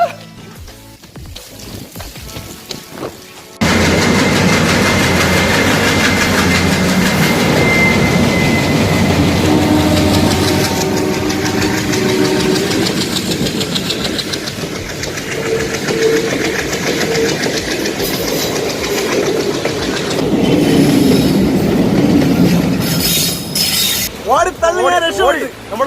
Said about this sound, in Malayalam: ഇതാണ് നമ്മുടെ ടണലിൻ്റെ അകത്താണ്. ട്രെയിൻ വരുന്നു.